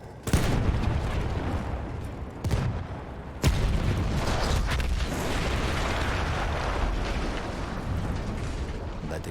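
A battlefield in the World War I shooter Battlefield 1: heavy booming explosions and sharp gunshot cracks over a loud, continuous rumble of combat, with several distinct blasts early on.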